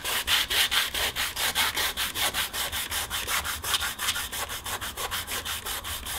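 Wet sanding a paint run on a latex-painted surface by hand, with a steady rhythm of quick back-and-forth rasping strokes, close and fairly loud, continuous throughout with no talking.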